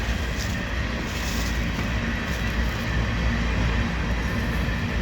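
An empty coal train rolls past, a steady broad rumble and rattle of railcars that holds an even level throughout, fairly loud and close, with no voices.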